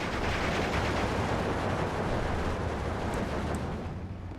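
A 1,000-pound bomb explosion in the Steel Division II war game, a loud, dense, sustained roar and rumble of blasts that fills the whole stretch and fades slightly at the end.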